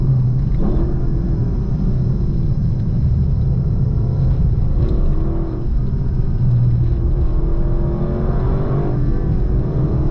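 A 2024 Lexus LC 500 accelerating on a test drive with the window open beside a rock wall: a steady, deep engine rumble that builds and holds loud and close for about ten seconds, with no talking.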